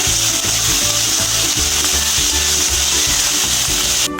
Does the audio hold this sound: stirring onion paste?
yes